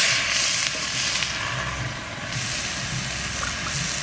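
Water lily stems going into a hot pan for a Bengali village curry with hilsa fish head and green chillies, giving a steady broadband sizzle that stays loud throughout with a faint low hum underneath.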